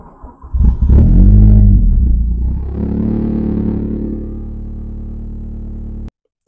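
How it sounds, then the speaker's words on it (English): Car engine with Invent Jetronic fuel injection cranking and firing up, a loud revving surge that settles into a steady, lower idle rumble before cutting off abruptly. "And now if we start our car,"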